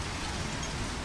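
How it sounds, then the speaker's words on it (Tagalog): Steady rain falls as a dense, even hiss of drops spattering on surfaces outdoors, continuous and close for about a second. "Ulan guys."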